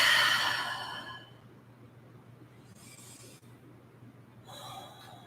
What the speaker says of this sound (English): You can do an open mouth exhale, getting a little bit more cleansing going on.